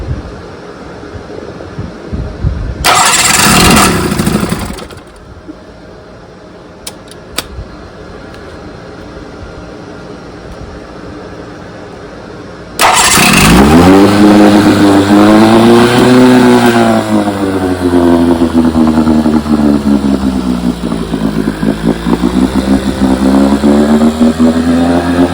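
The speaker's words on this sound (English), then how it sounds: "Let me show you that she runs. I got electric start on it." A 1968 Evinrude 18 HP outboard motor turns over on its electric starter in a short cranking burst, then later fires up and runs loudly, its engine pitch rising and falling as it revs unevenly.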